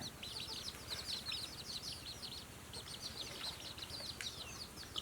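Crossbred chickens in a cage cluck and chirp in a busy, overlapping chorus, faint and a little distant over steady background noise.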